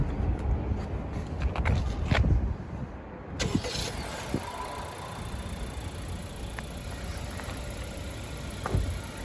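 A 2020 Honda Accord Sport 1.5T starts up, a brief crank and catch settling into a quiet, steady idle, preceded by clicks and handling noises close by.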